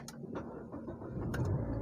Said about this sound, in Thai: สตาร์ทเครื่องกระดูกันนะคะ